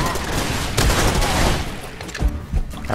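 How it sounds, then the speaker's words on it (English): Gunfire from enemies shooting at the player in the video game Far Cry 2: a dense barrage of shots with sharp bursts near the start, middle and end, loud and close over a constant rumble of background noise. "why are they shooting me?"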